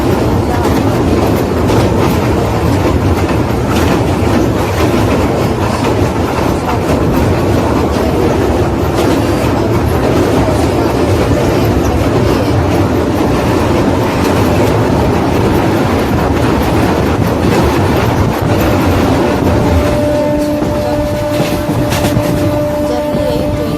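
A passenger train rolls along the rails on the way to Ayodhya, a loud, steady rumble with continuous clattering wheel noise from inside the carriage, and a faint tone joining near the end.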